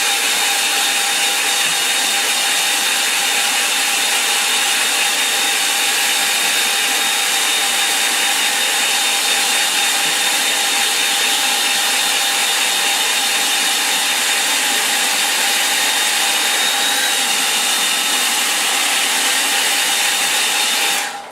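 A hair dryer runs nonstop for about twenty seconds, blowing on a painting of a stream on a moor. The whooshing roar is loud, close and unchanging.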